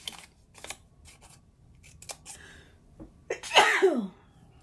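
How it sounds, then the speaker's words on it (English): Scissors snipping through card while making a Halloween card: a few quick, crisp cuts close by, followed by a sneeze. "I'm just gonna cut right up to it."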